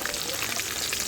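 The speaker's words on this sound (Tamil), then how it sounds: "வெங்காயம் போட்டாச்சு, லேசாக வதக்கலாம்" Onions sautéing in a pan with mustard seeds, garlic and green chillies in a village kitchen, a steady soft hiss and crackle, close but quiet, with no voices.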